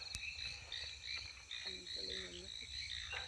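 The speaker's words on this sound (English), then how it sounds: "We've got a little hyla green tree frog here. Chinese tree frog." Chinese tree frog (Hyla) calling at night on a Taipei mountain trail, short croaking notes rising among steady insect and cricket chorus, moderately close, no talk.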